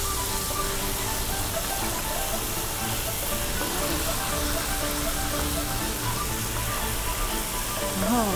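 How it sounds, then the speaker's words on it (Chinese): Ingredients fry and sizzle in hot oil in a wok, a steady, dense hiss and crackle throughout, with a voice speaking faintly over it. "我炸的时候就会稍微有一点点喷哦，所以要小心"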